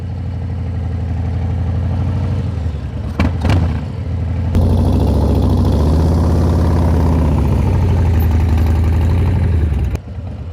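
A 2023 Harley-Davidson Breakout idles with a deep, steady rumble, then a quick throttle blip comes in. The bike pulls into a louder, sustained higher-revving drone before it drops back near the end. No one speaks.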